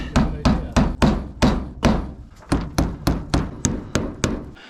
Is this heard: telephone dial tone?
no